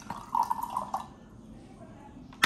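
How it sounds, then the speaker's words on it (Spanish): Tap water poured into a cup, a short close trickle and splash lasting under a second, followed by quiet room tone and a sudden clatter at the end. "Entonces, agua del grifo,"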